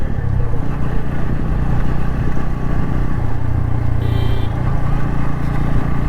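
Motorcycle ride on the way to Abosor Eco Park, a steady low engine drone with road rumble and wind, close and continuous for the whole stretch.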